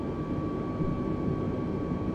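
A Wizz Air airliner on an ILS approach in Microsoft Flight Simulator 2020 gives a steady, moderately quiet engine drone with a faint constant whine, unbroken over the short stretch.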